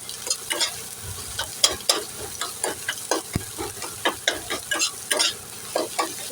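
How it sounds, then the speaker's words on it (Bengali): Egg and onion frying in a pan for egg Maggi noodles, close sizzling broken by a run of regular spatula scrapes and stirring knocks throughout. "একটু ভালো করে ভেজে নেবো ডিমটা।"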